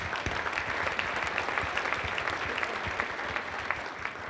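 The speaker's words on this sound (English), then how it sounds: "Another round of applause for Dino, another round of applause for him" An audience applauds a comedian with dense, steady clapping throughout, fairly close and even in level, with no voices over it.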